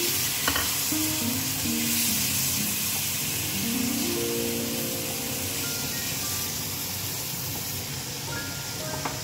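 A spatula stirs masala with chopped chillies, turmeric and a splash of water in a pan for matar paneer, giving a steady close sizzle with scraping strokes and a few tonal clinks throughout.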